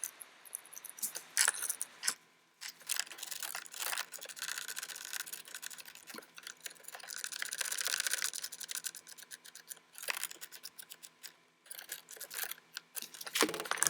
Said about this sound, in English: And then there's the 2 screws on top that you have to put in as well.